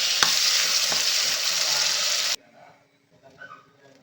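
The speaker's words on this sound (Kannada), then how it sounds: "ಈಗ ಟೊಮೆಟೊ ಹಾಕ್ಕೊಳ್ಳೋಣ. ಟೊಮೆಟೊ ಕೂಡ ಫ್ರೈ ಮಾಡ್ಕೊಳ್ಳೋಣ." Tomatoes are frying with onions in a pan, a loud close crackling sizzle punctuated by a couple of sharp stirring clanks, ending suddenly and followed by quieter faint background sounds.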